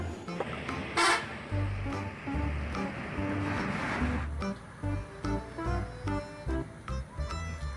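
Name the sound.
bus horn honking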